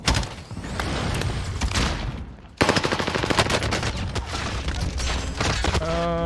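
Gunfire in the video game Call of Duty Warzone on Rebirth Island: bursts of rapid automatic shots, loud and close, with a brief lull partway through before the firing resumes.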